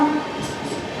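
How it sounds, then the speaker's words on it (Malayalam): A train rolls into Ahmedabad Junction station, a steady low rumble of wheels and carriages with a brief horn tone at the very start and a faint hiss above. "അപ്പോൾ നമ്മളങ്ങനെ അഹമ്മദാബാദ് ജംഗ്ഷൻ സ്റ്റേഷനിലേക്ക് പ്രവേശിക്കുകയാണ്"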